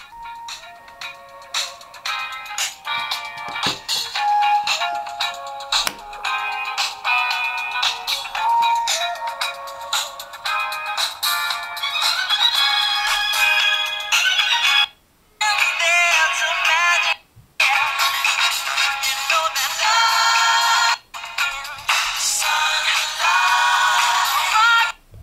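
Song played at full volume through the small speaker of a Nokia N97 phone, a thin, bright, continuous music track with brief dropouts, heard alone without talk.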